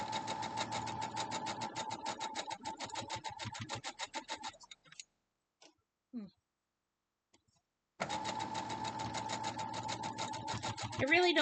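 A sewing machine stitches a Harry Potter quilt block, running in a steady rapid mechanical chatter for several seconds, pausing through a near-silent gap with a few small clicks, then starting up again loud and close.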